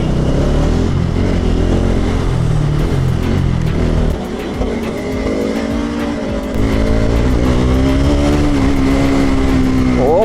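A motorcycle's aftermarket exhaust roars steadily close by, holding a loud, continuous engine drone with brief throttle changes and a rising rev near the end.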